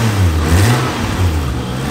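A Toyota MK4 Supra with a turbo engine revs loudly and close by, its deep, rough roar rising and falling across the short burst with no voices.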